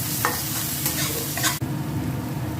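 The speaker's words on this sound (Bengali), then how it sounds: "এদিকে ওই একই তেলের মধ্যে আমি ফোড়ন দিয়ে দিলাম সর্ষে ফোড়ন আর সামান্য একটু জিরে" Mustard seeds and a little cumin tempering in hot oil, a dense, loud crackling sizzle with a few sharper pops and a brief abrupt dip partway through, close up and without speech.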